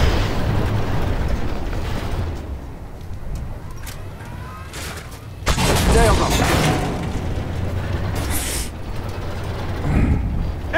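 Incoming shell explosions in the tank game Armored Warfare, with a T-64 in play: a loud broadband blast hits midway and is followed by rumbling impacts, all under steady engine drone and intermittent voice callouts.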